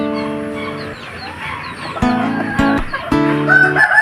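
Backyard pet chickens, hens and a rooster, cluck and crow close by, with several loud harmonic calls cutting in over a steady background of softer clucking.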